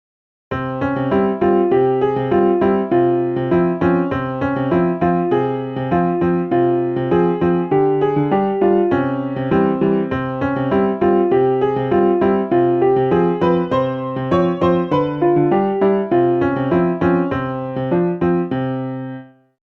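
A bright synthesized tune plays back in SunVox tracker software through steady, evenly spaced notes with a simple bass line underneath, clean and electronic, then stops abruptly.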